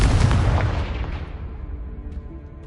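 Confringo blasting spell exploding in Hogwarts Legacy: a single heavy boom with a crackling burst at the start, then a rumbling tail that fades away over a couple of seconds, heard alone.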